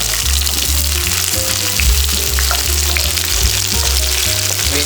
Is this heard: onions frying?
yes